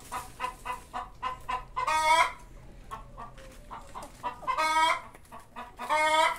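Chickens cluck and squawk near a lemon tree in a backyard, a lively run of rhythmic clucks with several louder, raspy calls, close by and with no talk.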